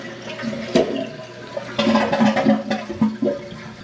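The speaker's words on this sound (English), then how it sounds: "water's coming back in" A toilet tank refills with water after its float ball was readjusted to stop a leak, a close, busy gush and gurgle with uneven bubbling surges and splashes throughout.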